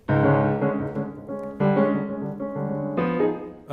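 Bowed strings of a string quartet sound a dense, sustained chord cluster from Bartók's String Quartet No. 4 three times, each swell starting loud and fading slightly before the next, with no talking.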